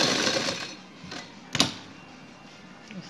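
A sewing machine stitches trouser fabric, its hum fading under a few sharp clicks and taps from the machine and fabric close by.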